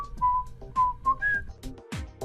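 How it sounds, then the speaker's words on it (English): Someone whistles a short tune alone, a few clear sustained notes rising and falling with brief pauses, close and moderately loud. "whistle a tune"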